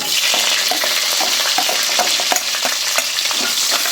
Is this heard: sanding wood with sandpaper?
no